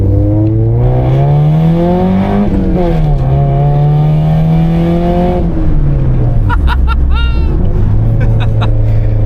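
Engine of a 1999 Honda Civic EK revving up and down in long rising and falling sweeps, loud and close, with shouting voices over it near the end.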